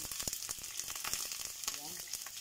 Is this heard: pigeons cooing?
no